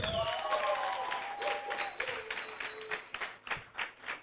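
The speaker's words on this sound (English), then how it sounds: "a round of applause for Kaimba Chanda" An audience applauds the second best speaker as results are announced, with light scattered clapping under faint tonal room sounds and murmuring. The clapping turns into sharper, louder bursts toward the end.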